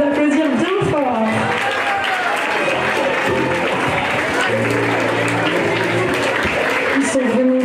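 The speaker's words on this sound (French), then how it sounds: "C'est leur premier festin, on peut les applaudir bien fort." A crowd applauds performers at the Festin de Saint-Étienne-de-Tinée festival, steady clapping and cheering throughout, mixed with loud voices and talk.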